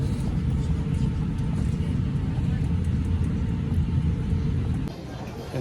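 A passenger airplane rolls along the runway and taxiway after touching down at Quito, Ecuador. The heavy, steady low rumble of engine and wheels is close and unbroken, then eases slightly near the end.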